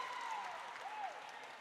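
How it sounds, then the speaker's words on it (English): Basketball fans at a women's college game against Bryan applaud steadily throughout, a sustained wash of clapping from the stands with a commentator's voice running over it. "Bryan fans applauding that one as they think it's been called too much on their players"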